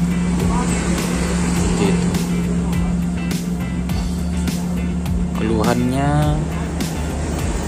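A fuel-injected Honda Beat scooter engine idles and is revved, humming steadily then rising unevenly and sputtering without reaching full revs, close and loud, while someone talks over it.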